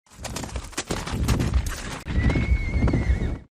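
A horse whinnies loudly over a busy soundscape of hooves and carriage clatter as horses and a carriage set off, with a second high neigh cutting through the rumble toward the end.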